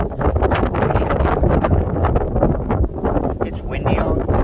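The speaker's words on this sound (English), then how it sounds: "It's windy out, but it's a warm wind." Wind blows outdoors beside a pond, roaring and buffeting steadily against the microphone the whole time, loud and close, with a voice faintly beneath it.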